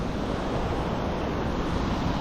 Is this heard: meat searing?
no